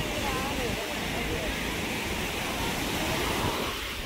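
Water waves surge and rush in a steady, loud broadband wash during an outing, a constant churning roar with no clear breaks or voices.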